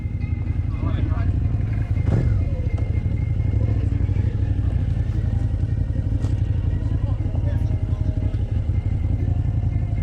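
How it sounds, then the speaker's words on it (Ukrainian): A motorcycle engine idles loud and close at a moto festival, with a steady rumbling throb throughout and light clatter. Someone talks over the engine noise. "мій мотик вже був повністю готовий, прогрівався"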